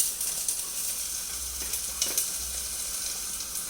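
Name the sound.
onions frying in oil with a little sugar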